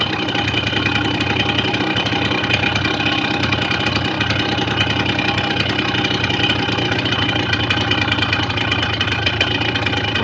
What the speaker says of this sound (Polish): obroty sobie spadają do niskich